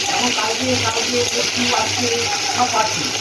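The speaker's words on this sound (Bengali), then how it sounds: "টমেটোটা দিয়ে দিলাম, টমেটোটা দিয়ে দিয়ে নাড়াচাড়া করি।" Tomatoes going into a simmering katla fish curry with potatoes, stirred in the pot, giving a steady close sizzle with soft scraping under faint background noise.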